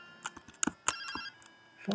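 Short electronic chiming ringtone from an incoming phone call in the Pokémon Gold video game, a series of bright beeping tones spread unevenly over two seconds, fairly quiet.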